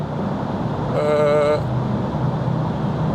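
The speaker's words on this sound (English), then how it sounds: "I'm in a tunnel, so it's a bit weird and people are driving slow" Steady road roar and tire hum from a VW ID.3 electric car moving slowly through a road tunnel, with a brief whining tone swelling for about half a second in the middle of the constant noise.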